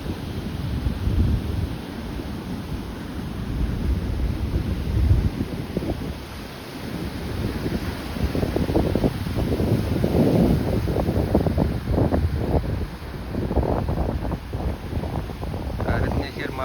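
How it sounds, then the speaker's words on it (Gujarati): Rough sea surf driven by storm currents and gusty wind roars along the shore, a loud rushing wash with surging waves and wind buffeting the microphone, while someone talks over parts of it. "આવી રીતના દરિયામાં ફૂલમ ફૂલ મોજા છે"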